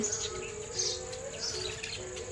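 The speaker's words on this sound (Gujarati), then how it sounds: "બધા અલગ અલગ ચકલા છે" Sparrows chirp in quick, light bursts over a faint steady hum, close and fairly soft.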